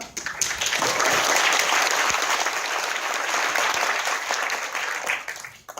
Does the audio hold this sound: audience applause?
yes